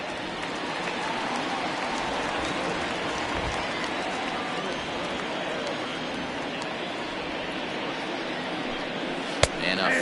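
Rain pours steadily during a Major League Baseball game, Brewers at Rockies, as a dense, even hiss across the whole stretch, with a single sharp knock near the end.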